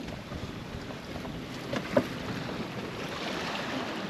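Sailboat under way in steady wind off the southern coast of Antigua, a constant faint wash of wind and water with soft rustling and a small knock near the middle.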